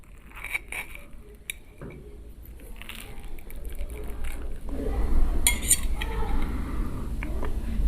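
A fork clinks and scrapes against a plate while kunafa with cream and banana is tasted; scattered light clinks and clatters sit close against a steady room background.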